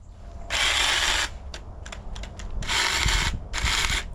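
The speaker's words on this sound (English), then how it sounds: "This is where my troubles with the little pocket chainsaw begin." A little pocket chainsaw, its chain set a bit too tight, cutting dead wood from a fallen tree, loud rasping bursts of sawing separated by short pauses and a few quick strokes, close up with no talk.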